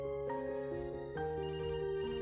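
Telephone ringing with a repeated electronic ring tone, several short bursts in quick succession, clear and fairly close with no voices.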